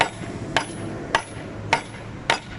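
Four sharp hammer blows strike a board on an industrial cart, spaced evenly about a second apart, close and crisp over a low background hum.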